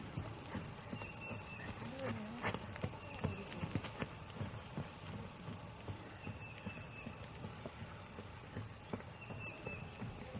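A horse canters loose on a free lunge, its hoofbeats thudding in a quick, steady rhythm at moderate distance, with a person speaking over them.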